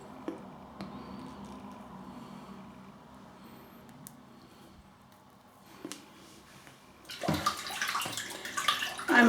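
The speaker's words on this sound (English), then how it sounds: "Let me just take it out the water so I don't have foam everywhere on my flannel." Wet sloshing and dripping as a shaving flannel is pulled out of a basin of cold water, a quiet start building to a louder burst of splashing and trickling near the end.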